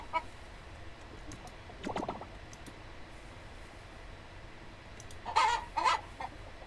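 Chickens clucking in the farming game Coral Island, a few soft, brief clucks scattered over a low ambient background, with two clearer bursts near the end and no talk.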